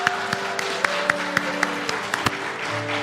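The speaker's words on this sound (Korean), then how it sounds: "성령 박수 주시죠." A church congregation gives rhythmic, spaced claps at a pastor's retirement worship service, distinct sharp hits over a sustained organ-like tone, moderately loud and fairly close.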